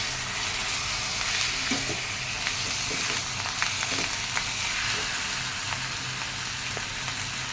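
Mixed sprouts usal fries in a pan with turmeric, a constant close sizzle broken by light scraping clicks as a spoon stirs through it; no one speaks.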